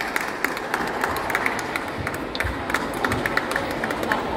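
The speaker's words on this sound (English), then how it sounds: "Can we please have a round of applause for Rumika Soloway?" Audience applause at an anime festival panel, a dense, steady patter of many hands clapping throughout, moderately loud with a few sharper claps standing out.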